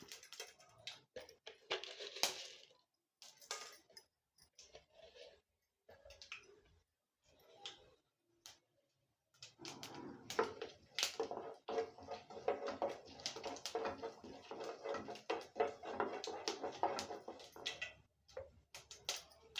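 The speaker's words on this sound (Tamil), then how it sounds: "கடுகு பொரிஞ்சிடுச்சு." Mustard seeds sputter in hot oil in a cooking pan, first as scattered sharp pops and then as a dense, steady crackle close by, with no talking.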